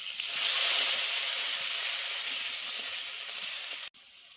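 Kohlrabi leaves dropped into hot oil with black cumin, garlic and chili give a loud, steady broadband sizzle that holds throughout, then briefly cuts out near the end before resuming.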